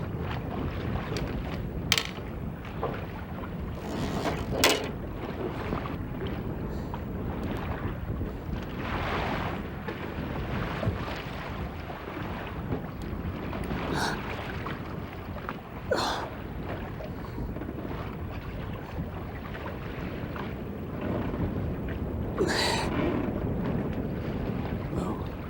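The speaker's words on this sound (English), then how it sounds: "bloody wind keeps grabbing that net." Steady, loud wind buffets the microphone aboard a small fishing boat at sea while playing a big chinook salmon, with broadband roar, gusty swells and occasional sharp knocks on the hull throughout.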